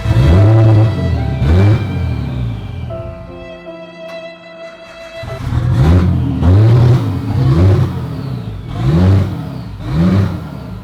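A Nissan Skyline engine runs rough while smoking and stalling, with repeated loud revs that surge and fall in a pulsing rhythm and a steadier idle-like hum in the middle, all close to the microphone.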